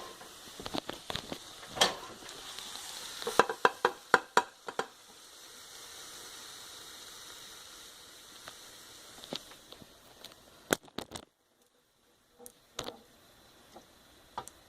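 Sliced mushrooms being dumped into a crockpot over olive oil and garlic spice. Scattered clicks and soft taps come as the pieces drop in, with a faint hiss between them and a short silent gap near the end.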